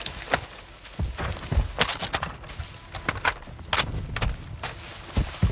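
Gunfire in a multiplayer shooter video game, scattered sharp shots and cracks at irregular intervals, some near and some more distant, mixed with footsteps and other impacts, with no talking.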